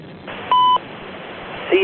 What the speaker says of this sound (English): CSX Equipment Defect Detector.